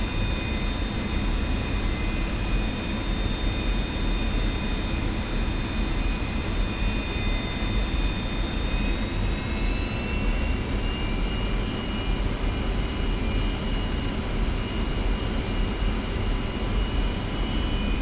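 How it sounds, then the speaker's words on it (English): The jet engine of an F-86F Sabre in the DCS flight simulator roars steadily and loudly throughout, with thin whining tones that shift slightly in pitch partway through as the RPM rises, and no talking. "Increase engine RPM a little bit until the generator warning light goes off."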